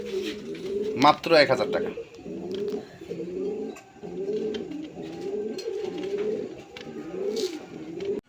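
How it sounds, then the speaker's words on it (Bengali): High-flying Gribas pigeons coo in soft repeated low phrases throughout, close by, with someone talking over them and a brief burst of other bird chatter early on. "বন্ধুরা এখানে একজন হাই ফ্লাই গ্রিবাস কবুতর দেখেন"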